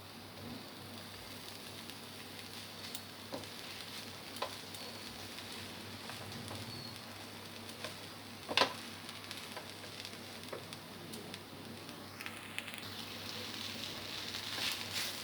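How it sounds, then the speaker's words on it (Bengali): Vegetarian chowmein being stirred and fried with vegetables and soybean in a pan, a steady soft sizzle with scattered scraping stirs and occasional clicks, faint and continuous. "চাউমিনটা আমি প্রায় 6-7 মিনিট ধরে সবজির সঙ্গে মিশিয়ে নেড়ে চেড়ে নিয়েছি"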